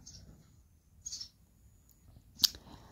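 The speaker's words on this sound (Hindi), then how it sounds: "चिड़िया का साउंड आया होगा इस वीडियो में" A small bird chirps faintly in the background, a few short, sharp calls spaced apart over otherwise quiet indoor air.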